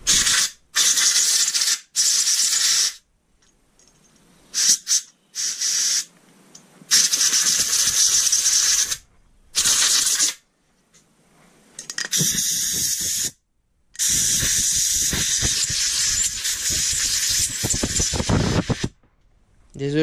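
Compressed air is blasted into a small tank in a series of loud hissing bursts of varying length, separated by short pauses, close to the recorder.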